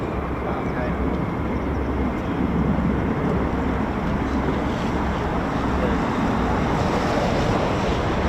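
F-35 fighter jets taxiing at RAF Lakenheath, home of the US Air Force 48th Fighter Wing: a steady, distant jet roar that holds unbroken the whole time, with no distinct peaks.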